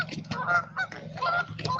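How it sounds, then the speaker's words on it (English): Geese honk repeatedly at a lake, a loud, close flock calling in overlapping bursts with no pause for the whole stretch. "I got to go through an army of geese."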